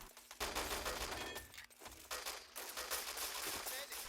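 Rapid automatic gunfire from the Wolfenstein: Enemy Territory video game, with an MP40 mentioned, crackles in dense continuous bursts through a busy courtyard firefight, loud and steady with brief dips.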